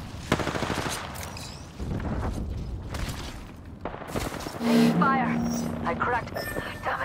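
Apex Legends gunfire with bursts of shots and impacts scattered between voices, uneven and punchy, mixed with game effects and a tonal beep partway through while people talk.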